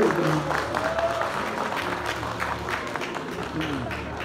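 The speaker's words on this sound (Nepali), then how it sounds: "जोरदार ताली बजाइदिनुहोस्" Steady crowd applause fills the whole stretch at the National Entertainment Award 2021 ceremony, a dense wash of clapping with murmuring voices underneath.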